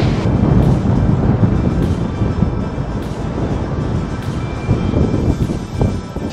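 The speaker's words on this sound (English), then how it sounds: "It's windy!" Steady, loud wind on Mt Tibrogargan buffeting the microphone, a low roaring rumble with gusts that swell and ease throughout, no voices.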